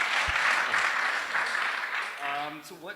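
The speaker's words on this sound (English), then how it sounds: "big warm of applause for Rami and the whole Startup Grind team" An audience at a startup event gives a round of applause, a broad wash of clapping that fades as a voice begins speaking near the end.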